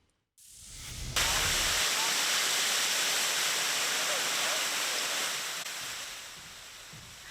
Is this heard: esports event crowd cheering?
no